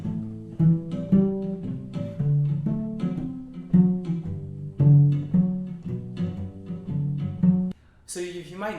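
A cello plays a walking bass line of separate sustained bowed notes over 7th chords, moving up and down at a moderate pace, alone and close.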